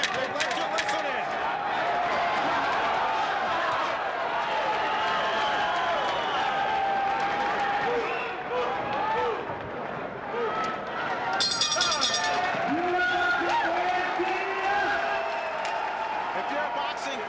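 A boxing crowd at the Hog, Mountaineer Racetrack and Gaming Resort rises to its feet, a loud, sustained roar of cheering and applause with a burst of clapping partway through, under a commentator's talk.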